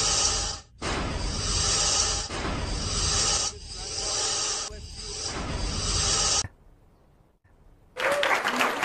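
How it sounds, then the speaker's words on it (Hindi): A political audience applauds loudly in sustained bursts broken by brief gaps, each wave a dense hiss-like roar of clapping, then quiet before a final short burst. "बजाइए ताली"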